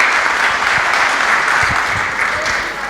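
An audience at a Catholic gathering claps for a priest, a dense, steady burst of applause filling the room from start to finish.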